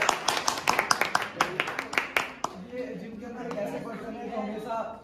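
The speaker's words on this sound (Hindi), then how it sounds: "आज की जो हमारे चीफ गेस्ट है सुमित गुसाई जी एक बार उनके लिए जोरदार ताली" A small crowd claps for the chief guest at a deadlift event, sharp close claps for about two and a half seconds, then fading into murmuring chatter and talk.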